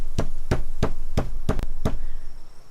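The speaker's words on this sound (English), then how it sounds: "This is the sound of slappy palms on half wood and half desk mat" Palms slap a surface that is half wooden desk and half desk mat, six sharp separate hits at a steady pace, close and fairly loud, with no talking.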